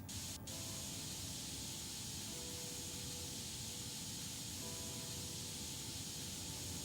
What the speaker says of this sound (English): Spraying literally directly into the case.